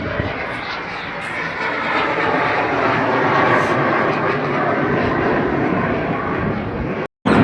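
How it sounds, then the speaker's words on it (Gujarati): A fixed-wing airplane passes overhead with a loud, steady engine roar that fills the scene for several seconds before cutting off abruptly near the end. "હવે પ્લેન આવ્યું છે, પ્લેનનો અવાજ આવે છે."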